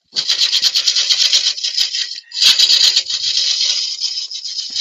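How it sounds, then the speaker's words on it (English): A 6mm cupped carbide cutter grinds steadily and aggressively for nearly five seconds, giving a loud, continuous rasping scrape with one brief dip in the middle. "The cutting actually doesn't take a long time with this particular cutter. It's only a 6mm carbide cutter, cupped carbide cutter, but it is so aggressive."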